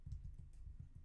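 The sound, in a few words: typing a command on a computer keyboard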